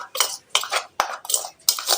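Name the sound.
mixing wheat flour with oil and spices in a bowl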